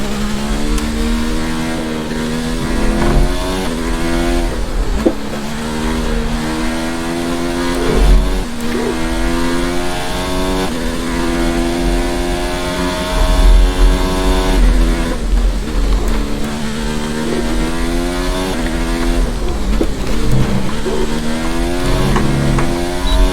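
Loud F1 2019 race car engines scream and rise through the gears, with harmonic pitch sweeps climbing and dropping repeatedly as cars accelerate and shift, several engines overlapping throughout.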